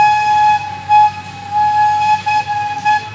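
A small amusement park ride train at DelGrosso's Amusement Park gives a steady, bright whistle-like tone with harmonics over a low rolling rumble, fairly close and loud, with no talking.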